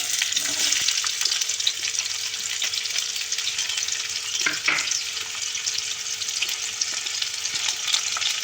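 Onions fry in mustard oil with a little salt, a continuous close sizzle and crackle with occasional soft scrapes of a spoon stirring the pan.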